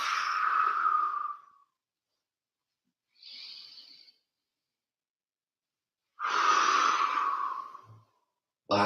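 Three slow exhales during a dynamic warm-up exercise, breathy and fairly close, each lasting one to two seconds with quiet pauses between; the last is cut short at the end.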